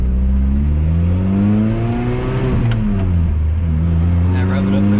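A supercharged Lotus Exige engine revs up close by, rising to a peak and dropping back, loud and throbbing with a steady low hum, and a voice talks over it.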